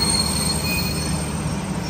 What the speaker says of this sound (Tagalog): Yun yung tren.